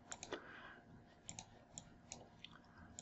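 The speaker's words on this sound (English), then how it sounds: "Shift key, Alt key," Computer keyboard keys are pressed in a quick scattered series of faint, crisp clicks during Adobe Illustrator shortcut use, heard alone in a quiet room.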